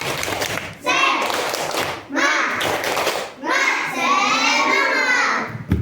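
Children in an Indonesian classroom clap out the rhythmic "tepuk semangat" spirit clap, bursts of patterned hand claps mixed with chanting young voices, loud and close in three main phrases.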